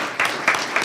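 Brief applause from the audience at a school district governing board meeting, a short burst of clapping that rises and falls in a few quick swells.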